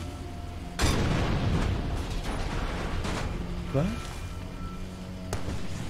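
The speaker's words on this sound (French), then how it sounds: "Pourquoi j'entends une explosion?" Artillery blasts in the shooter game Far Cry 2 land as a sudden loud boom followed by rumbling, with further thuds and a short whistle, while someone talks over the noise.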